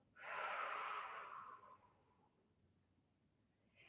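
A person exhaling during a breathing exercise, one long airy breath out that fades over about two seconds, close and soft with no talk.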